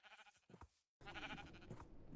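Sheep bleating in a video game, a couple of wavering, nasal bleats, close and clear, with a brief silent gap between calls.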